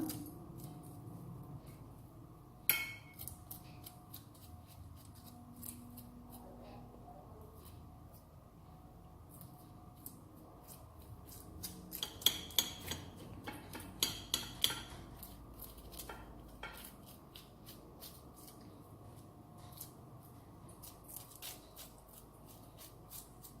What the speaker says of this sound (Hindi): इस तरह फोर्क की मदद से मैं इसके ऊपर से ये छिलका उतार लूँगी